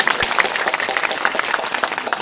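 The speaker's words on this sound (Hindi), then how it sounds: "इनको उस दिन इनके लिए जोरदार तालियों से स्वागत कीजिए आप लोग" Applause from an audience at a political rally in Bihar greets a woman being honoured, a steady patter of many hands clapping at moderate loudness across the whole stretch.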